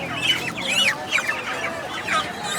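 A hen at a Lahore poultry market, apparently injured from handling, clucks and squawks in a continuous close, loud run of agitated calls with no talk.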